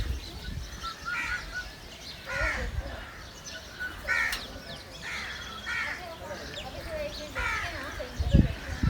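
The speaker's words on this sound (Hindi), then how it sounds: "कौवे वाकई बड़े अपॉर्चुनिटिस्ट होते हैं" Crows cawing at a zoo in Karachi, several harsh calls repeating at irregular intervals over crowd murmur, with a louder nearby thump near the end.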